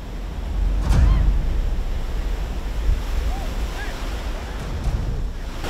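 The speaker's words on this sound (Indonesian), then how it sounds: "Ombaknya gede, Bang." Big surf rolls in steadily on a beach with a heavy wash near the start, wind buffeting the microphone throughout and a faint voice now and then.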